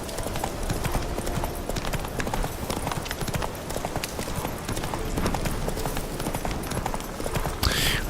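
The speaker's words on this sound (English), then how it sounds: "I forgot that I actually have a horse in this game." Steady hooves of a horse galloping in The Witcher 3: Wild Hunt, with a continuous rapid clip-clop that runs loud and close throughout, with no talking.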